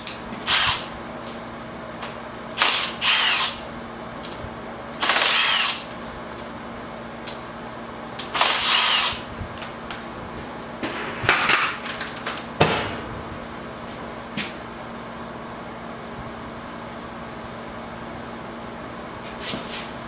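A 10mm socket ratchet works the water pump bolts on a Nissan 350Z engine: short bursts of clicking and metallic clinks come in clusters, separated by quieter stretches of near silence.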